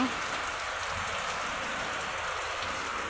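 Heavy rain pours down in a steady, dense hiss with no breaks, loud and close throughout.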